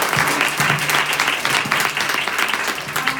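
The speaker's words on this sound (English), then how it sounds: "give us a big round of applause for Jackie and all of our panelists" Audience applause for a panel at an interior design business session, steady dense clapping from a full room filling the whole stretch, with a faint voice briefly showing underneath.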